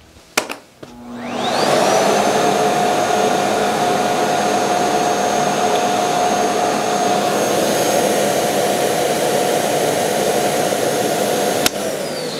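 A Miele Boost CX1 vacuum cleaner runs at its highest suction setting, starting with a few clicks, then spinning up into a loud, steady whirring roar that holds unbroken for about ten seconds, with no talk.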